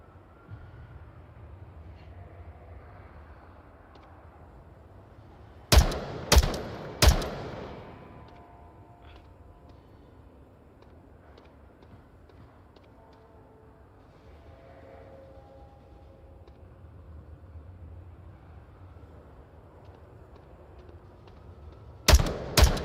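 Gunfire in the virtual reality shooter Onward: two sharp bursts of several loud shots in quick succession, then a long stretch of quieter game ambience before a final cluster of shots.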